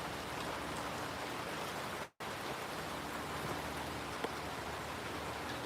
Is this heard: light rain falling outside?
yes